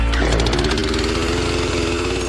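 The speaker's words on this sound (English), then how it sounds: "you're Liz Ennis in Poughkeepsie, New York, you can fire up your trusty chainsaw" A chainsaw engine roars steadily at high revs, loud and close, with a dense buzzing drone that holds throughout and no voices.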